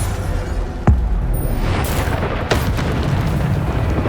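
Explosive blasts from the Bombarda spell in the Hogwarts Legacy video game: two sharp booming bursts over a steady low rumble, the first just before the one-second mark and a second, brighter blast near two and a half seconds.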